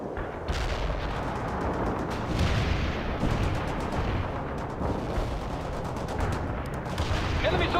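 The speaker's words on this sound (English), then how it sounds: "Strike mission received. Cluster bombs are armed." Explosions rumble in a cluster bomb strike in the war strategy game World in Conflict, a dense run of booms and crackling blasts with rapid gunfire-like bursts layered over a steady battle din, fairly loud throughout.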